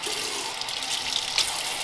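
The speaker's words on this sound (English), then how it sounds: "we're gonna wash the hair out" Water from a tap running steadily as it rinses a child's hair over a sink, a soft continuous splashing with no voices.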